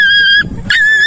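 A dog whimpers in two loud, high, drawn-out whines close by, separated by a brief pause with faint rustling.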